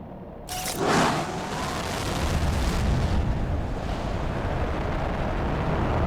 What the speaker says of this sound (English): let's send one more rocket